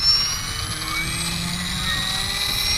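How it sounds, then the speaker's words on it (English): Electric motor of an RC helicopter on a Hobbywing 130HV V4 ESC spinning up to idle-up RPM, a steady close whine with rotor hum held throughout, no talking. "I'm gonna go ahead and spin up my motor, and I'm gonna go to idle up 1 just because I want a decent RPM."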